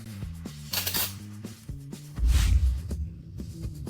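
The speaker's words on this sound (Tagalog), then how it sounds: "Mga kubyertos na ginto. Ang kinang nito, ang pakiramdam nito, at ang tunog nito." Golden cutlery clinks and chimes in a series of light metallic taps, spaced irregularly, with a louder clatter near the middle and no talking.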